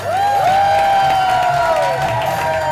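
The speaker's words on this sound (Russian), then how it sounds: "Ваши аплодисменты." Audience at a stand-up comedy show applauding and cheering loudly and steadily throughout, with a bright whistle or whoop rising over the dense clapping.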